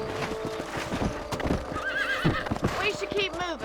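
Horses in the Red Dead Redemption video game gallop with rapid clip-clop hoofbeats, and a loud whinny cuts through near the end, mixed with game voices and background music.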